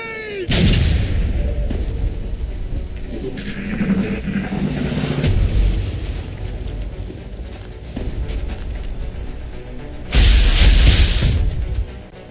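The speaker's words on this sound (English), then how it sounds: "We're taking fire from multiple X-rays! This guy's got me pinned down, taking heavy fire." Heavy gunfire and booming explosions in XCOM: Enemy Unknown, loud rumbling blasts at the start, middle and end with continuous battle noise between them.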